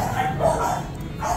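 A micro exotic bully dog gives short, close, high-pitched yips and whiny barks in a quick series of calls at a fairly loud level.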